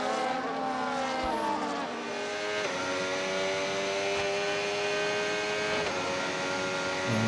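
Race car engines in a racing video game, a continuous loud high-revving drone with shifting pitch as cars run close by; faint talk may sit underneath.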